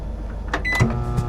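Microwave oven running inside a turbo kei camper van, a faint hum with a few short mechanical clicks and tones over a brief moment, no talk.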